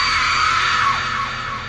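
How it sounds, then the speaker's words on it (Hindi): A strange, drawn-out scream fills the clip, loud and continuous, with a harsh wavering tone that slowly eases toward the end. It is used as a spooky sound effect inside a haunted house at night. "जाते ही आपको अजीब सी चीख सुनाई देती है"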